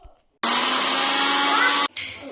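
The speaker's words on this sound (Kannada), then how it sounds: "ಐಸ್ ಕ್ಯೂಬ್ ತಗೊಂಡಿದ್ವಲ್ಲ, ಅದನ್ನು ಸೇರಿಸ್ಕೊಂಡು ಮತ್ತೆ ಗ್ರೈಂಡ್ ಮಾಡ್ಕೊಳ್ಳೋಣ" A mixer grinder whirs loudly and steadily while grinding coffee with ice cubes for dalgona coffee, running about a second and a half, stopping briefly, then restarting.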